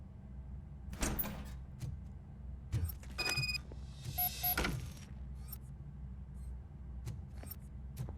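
A door slides open in the RoboCop Rogue City video game, with a few sharp clanks and a mechanical whir over a low steady hum.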